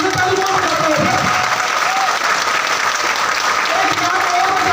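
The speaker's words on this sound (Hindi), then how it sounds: "आपकी तालियां ऐसे बज रही थी, ऐसे तालियां बजा रहे थे।" Loud, continuous applause from a seminar audience, many hands clapping close together at full strength throughout, with voices audible over the clapping.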